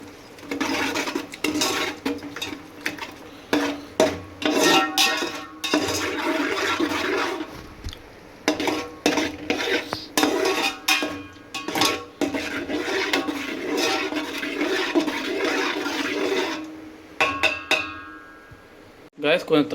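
Masala mixed with curd in a cooking pot for egg biryani gives irregular scraping, clinking stirring strokes on metal, loud and close, with brief pauses and a few louder knocks.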